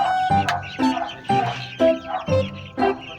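Chickens cluck in a small backyard coop, giving short repeated bursts in a steady rhythm, close and clear with no talk.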